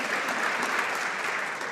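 Brief, steady applause from members in the House of Commons chamber, a continuous wash of clapping lasting under two seconds.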